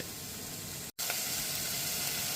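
Onions and celery sauté in a pan for sprout soup, a steady broadband sizzle and hiss that cuts out for a brief instant before carrying on evenly.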